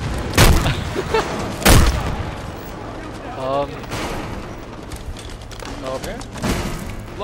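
Grenade explosions and gunfire from the video game Halo 5: a few loud, sharp blasts spread across the span, with quieter combat noise and voices in between.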